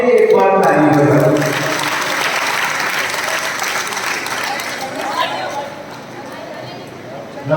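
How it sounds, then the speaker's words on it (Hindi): An audience at a religious discourse breaks into loud applause right away, a dense burst of clapping that slowly thins and fades over several seconds. "अब अपने लिए एक बार ताली बजाओ।"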